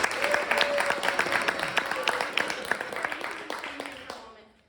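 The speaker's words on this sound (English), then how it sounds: "Let's give him a round of applause." A crowd breaks into steady applause, dense clapping that gradually fades out, with some voices mixed in.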